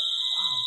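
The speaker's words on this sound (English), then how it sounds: "The alarm now." A high, piercing electronic alarm from the horror film Insidious blares as a steady continuous tone, loud and close, with a faint rustle beneath it.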